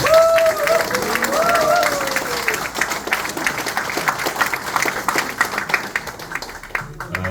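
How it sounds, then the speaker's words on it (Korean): An audience claps and applauds at a formal ceremony address, a dense burst of clapping that starts loud and gradually thins and fades, with a few voices mixed in. "큰 박수를 한번 부탁드립니다."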